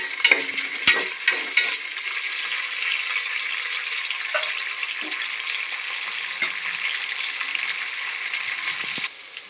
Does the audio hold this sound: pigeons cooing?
no